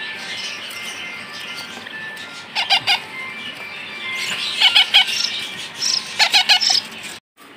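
Hill myna chicks give repeated short bursts of calls in clusters, fairly close, over a steady background hiss with no talking.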